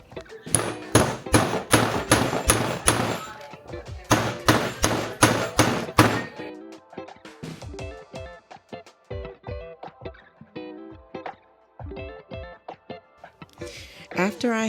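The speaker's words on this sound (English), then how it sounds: "After I hammer in the grommet," A run of sharp hammer strikes setting a metal grommet into a denim jacket, several quick blows in a row, followed by lighter tapping and knocking noises.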